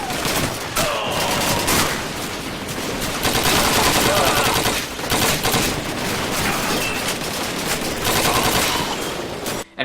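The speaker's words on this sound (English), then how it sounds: "explosions going off, multiple guns going off at the same time." Loud, dense bursts of rapid gunfire overlapping with booming explosions, a chaotic nonstop barrage of combat in the video game Call of Duty 2.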